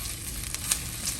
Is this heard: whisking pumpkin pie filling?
no